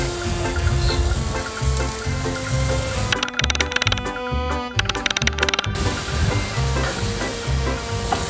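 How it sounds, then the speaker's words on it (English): A burger patty sears on the high-heat zone of a grill, giving a steady, close sizzle that swells into a brighter, louder crackle midway before settling back, with a low tonal background underneath. "let's put the burger in a high temperature zone and let's give it a sear"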